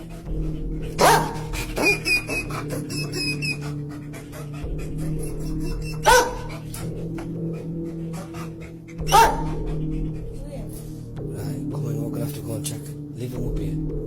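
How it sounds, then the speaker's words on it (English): A dog pants and whimpers close by, with scratching and a few sharp bangs at intervals, while people talk in the background; barks are faint and scattered. "This dog tried to warn them, but they didn't listen."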